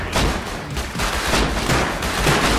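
Gunfire in the video game Rust, with dense rapid bursts of shots and booming blasts close by and loud throughout, and no one speaking.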